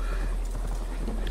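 A wolf mount gallops in Assassin's Creed Valhalla, its rapid rhythmic footfalls thudding steadily and close throughout.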